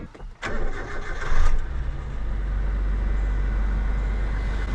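A Suzuki Jimny JB33 engine cranks briefly with a starter whine, catches, and settles into a steady, close, rumbling idle with no talking over it.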